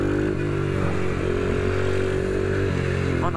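Close, loud buzz of an Ohvale mini motorcycle lapping a track to warm its tyres, the engine note holding, rising and dropping with gear changes and throttle.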